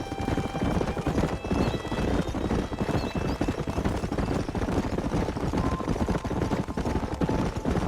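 Horses gallop with steady clip-clopping hooves and neigh in the open-world western video game Red Dead Redemption, loud and continuous over ambient game sound and music.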